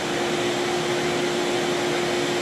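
A CNC router's dust collection vacuum runs in a steady, loud whooshing drone with a faint constant tonal whine, unchanging throughout.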